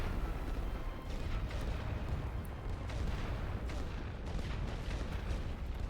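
A dense artillery barrage rumbles in The Great War: Western Front, with continuous overlapping booms and distant blasts forming a thick, unbroken roar with no talking.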